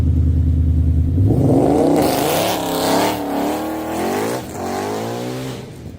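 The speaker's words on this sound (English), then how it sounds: "That was a 1-2 shift." A car accelerates hard from idle, its engine note climbing steadily in first gear before a brief dip at the 1-2 shift, then pulling upward again in second, loud and close.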